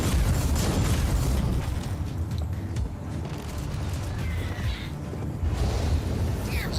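A pyromancy staff in Warhammer 40K: Inquisitor - Martyr casts fireballs in loud, dense, rumbling blasts and bursts that overlap continuously, with small crackles throughout.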